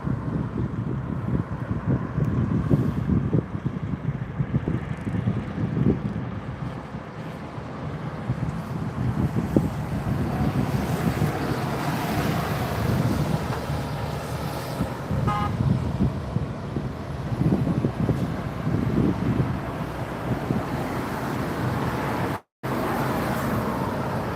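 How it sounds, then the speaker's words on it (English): A breezy north wind blows across the 27R arrivals area at London Heathrow Airport, a steady buffeting rumble with gusty low bursts throughout, joined by distant traffic and aircraft noise, with a brief dropout near the end. "Breeze is from the north today, so it's a little bit breezy"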